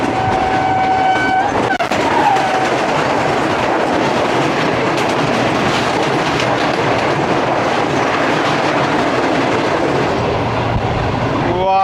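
The Karachi Express rolls past close by with a loud, continuous rumble and wheel clatter throughout, and a brief horn-like tone rises near the start.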